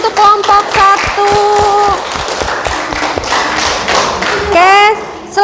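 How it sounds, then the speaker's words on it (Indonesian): Classroom students clapping for the first group, a ragged burst of hand claps and thumps mixed with children's voices and chatter. "Tepuk tangan untuk kelompok 1"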